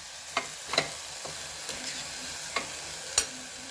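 Dill greens and moong dal are turned in a frying pan, a soft sizzle running underneath while a spatula scrapes and taps the pan a few times at uneven intervals.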